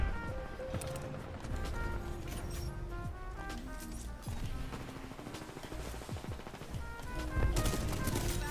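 Rapid bursts of R-101 carbine gunfire from a video game rattle through a busy mix of game sounds and music, with repeated shots at close range.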